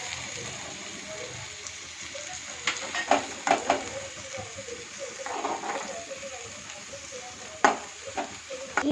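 Onion, ginger and garlic fry in a pan for chicken gojju, a steady sizzle overlaid with repeated spatula scrapes and clatters that get louder toward the end, heard up close.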